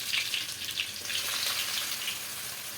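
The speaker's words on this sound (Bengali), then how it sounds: "দিয়ে একটু হালকা ফ্রাই করে নেব বেশি লাল করবো না" Chopped garlic and ginger frying lightly in oil for restaurant-style chilli chicken, giving a steady, close sizzle that hisses continuously throughout with no voices.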